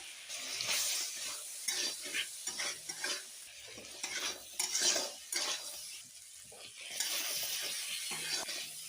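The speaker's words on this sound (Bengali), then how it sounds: "ক্যাংড়াগুলো দিয়ে দিলাম, দিয়ে নেড়ে দিলাম, ভালো করে ভেজে নেব।" Crabs fry in a pan with salt and turmeric, crackling and hissing while a utensil stirs them in repeated scraping bursts, with brief pauses between strokes.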